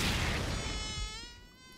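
Several mosquitoes whining close by in a room, a steady high-pitched buzz with wavering pitch that drifts and fades slightly, alone with no voices.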